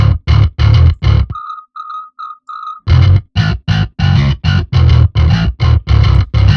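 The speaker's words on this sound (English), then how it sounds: "The distortion is the Lassie Lammert pack called Bass Classic Grind." A bass guitar in a metal mix plays tight, chugging staccato bursts through the Bass Classic Grind distortion, loud and gritty, with a short break of clean high notes midway.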